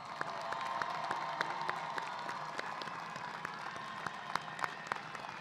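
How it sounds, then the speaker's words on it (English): Applause from the crowd at a 2021 high school commencement ceremony, steady moderate clapping spread through a large space with scattered louder individual claps, no talk over it. "please stand and receive recognition for your academic accomplishments by a round of"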